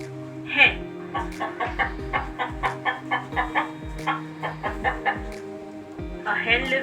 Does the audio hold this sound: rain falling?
no